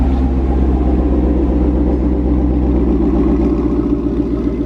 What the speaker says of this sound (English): It does the popple and the cracks.